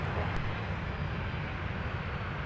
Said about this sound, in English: Delta 258 Heavy will be our next wide-body departure, and it is pushing back now from Concourse F.